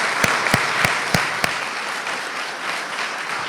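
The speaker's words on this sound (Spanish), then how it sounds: "Un aplauso para él." Applause during a studio talk-show tribute, a few loud, distinct claps in the first second and a half, then a soft, diffuse patter of clapping that fades into the room.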